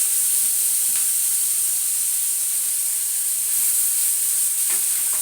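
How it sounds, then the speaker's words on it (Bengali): Sliced onion frying in hot oil with dried red chilies and nigella seeds, a steady close sizzle and hiss running evenly throughout with faint crackles and no talk. "পেঁয়াজটা একটু ভেজে নেবো লাল করে"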